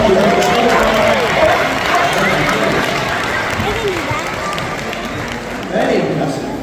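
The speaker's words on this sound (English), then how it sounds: "Give Arthur a huge round of applause" An audience claps in steady applause for Arthur the sea lion, a dense crowd clatter under a presenter's amplified voice.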